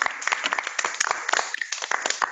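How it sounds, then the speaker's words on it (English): Audience applause closing an online US-German panel discussion on contemporary propaganda, a short, fairly close burst of scattered clapping from a small group. "I give you a round of applause."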